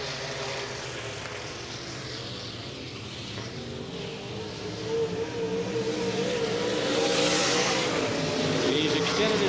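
IMCA modified race cars roar around Salina Speedway during a heat race, a continuous loud engine drone that swells toward the end as cars pass, with an announcer talking over it.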